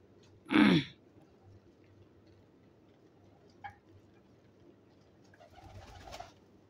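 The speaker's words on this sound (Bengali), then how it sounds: "কবুতরে খানা দিছি ওরা দেখেন খাইতেছে" Pigeons being fed by hand give one loud close burst of cooing or wing flutter early on, then only faint scattered sounds and a soft rustle near the end.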